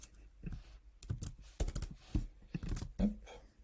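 Someone types text into a design prototyping tool on a computer keyboard, producing scattered clusters of close, light key clicks with brief pauses between bursts, heard alone without speech.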